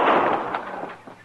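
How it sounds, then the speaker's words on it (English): A single gunshot goes off in an old Western radio drama, a sharp, loud burst that decays into a short rumbling echo within about a second. "You shot him."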